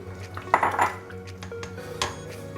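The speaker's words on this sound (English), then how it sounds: "Now I'm going to add the carrots" Carrots tumble into a pot of simmering beef mechado with a cluster of close metallic clinks and clatters, followed by a few lighter knocks and a final clink against the pot.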